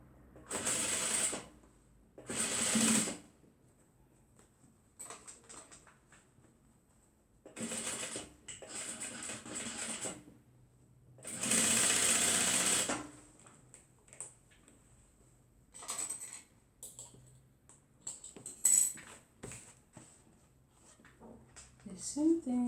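A home sewing machine stitches a fabric beach tote in several loud whirring bursts of one to two seconds, separated by quiet pauses with small clicks and handling noises.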